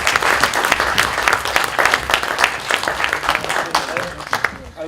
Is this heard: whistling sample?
no